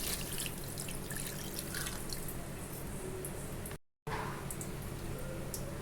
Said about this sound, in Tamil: தேவையான அளவு தண்ணி சேர்த்துக்குவோம்.